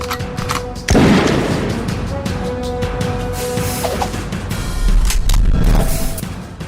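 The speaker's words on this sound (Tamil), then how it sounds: "இலங்கையை அதிர வைத்த தொடர் குண்டுவெடிப்பு சம்பவம்." A heavy explosion effect for the serial bomb blasts in Sri Lanka: one loud sudden boom near the start, followed by a long rumbling roar with crackling debris and a second swell of low rumble later.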